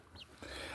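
Chicken clucking at a household with chickens and dogs, a short soft call near the start followed by general close barnyard rustle.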